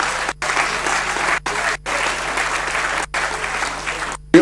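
Sustained applause in a national address chamber for the country's sports teams, dense clapping with several abrupt dropouts, cutting off at the end.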